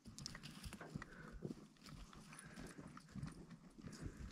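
Horses clip-clop over ground on a ranch, the hoof strikes steady and fairly close, with scattered low rumble and faint background noise throughout.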